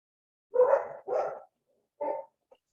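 A dog barks at a Saturday barn-raising gathering: two quick barks, then a third after a pause, fairly close and clear against otherwise quiet surroundings.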